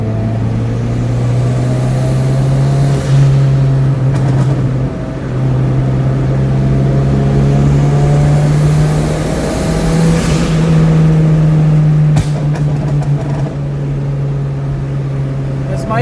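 A turbocharged Honda Prelude driving along the road, its engine drone steady and loud from inside the cabin, rising slightly in pitch at times, with a person talking over it.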